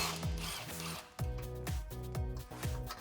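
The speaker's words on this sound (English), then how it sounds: "I'm going to use a 10 millimeter socket." A ratchet with a 10 mm socket working a brake line bracket bolt on a Jeep Wrangler JL, quick repeated clicking strokes in short bursts, close and quiet.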